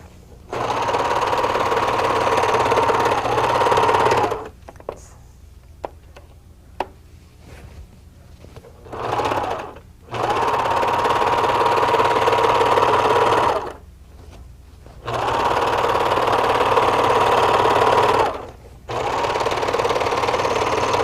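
An industrial sewing machine runs a seam on heavy drapery fabric in long, loud, steady bursts, stopping and restarting several times with quiet gaps in between.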